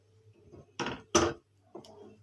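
Spoon whisking almond halwa with milk in a pan, a few quiet scraping clinks against the metal in short irregular bursts.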